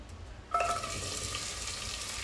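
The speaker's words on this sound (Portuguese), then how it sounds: "Vamos jogar só um fiozinho aqui de óleo aqui nessa panela, só para dar um fritamento nesse tempero." Garlic and onion seasoning hits hot oil in a pan on an old stove, breaking into a sudden steady sizzle that continues evenly and moderately loud, with no talking.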